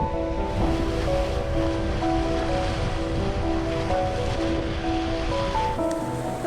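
A sailboat crossing the Indian Ocean heads northwest along the edge of the Seychelles bank under a grey sky. Open-ocean waves and wind rush past the hull in a steady, full wash, with faint tonal creaks running throughout.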